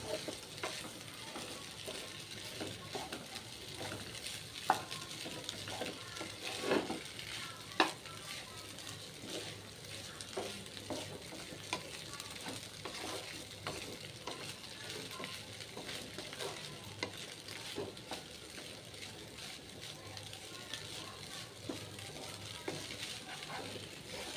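Flattened rice being added to already-fried potatoes in a pan and stirred, giving a steady low sizzle with occasional scraping clicks of a spatula, continuous and fairly faint throughout without speech.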